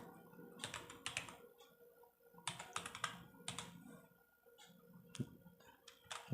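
Someone types Java code for a simple for loop on a computer keyboard: quiet, close clusters of key clicks in short bursts separated by brief pauses.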